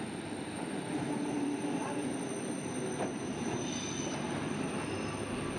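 A small passenger train in Bulgaria rolls steadily along the rails with a continuous rumble and faint high wheel squeal, heard from inside at moderate volume.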